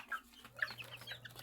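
Boston Lemon Sweater gamefowl, a derby-size high-station breed, giving a few short, faint clucks spread over a quiet farmyard background, with no talking.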